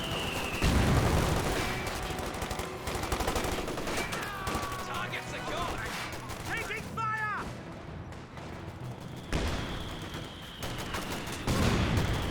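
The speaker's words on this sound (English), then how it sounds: "Sniper firing away." Battle sounds from Company of Heroes 2 with a sniper rifle firing amid dense gunfire, machine-gun bursts and artillery booms, sharp repeated reports under a narrating voice.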